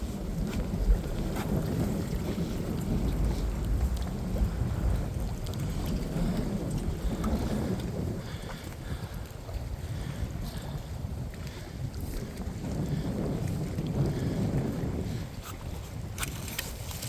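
Strong wind buffets the microphone outdoors at Glendalough, a continuous loud rumbling roar with gusty swells, close and unbroken with no talk.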